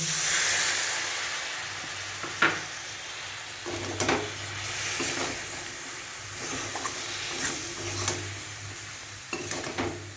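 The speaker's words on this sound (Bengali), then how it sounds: "আমি আর একটু 3-4 মিনিট ধরে ভেন্ডিটাকে ভালো করে কষিয়ে নেব" Okra being sautéed in a pan gives a steady frying hiss, with a series of sharp spoon scrapes and pan knocks spread through it, close and moderately loud.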